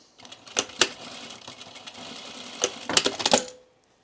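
A sewing machine stitches a blouse seam in short runs of rapid, close mechanical chatter, with pauses between bursts and a final quick flurry before it stops.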